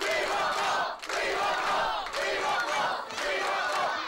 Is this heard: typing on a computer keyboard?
no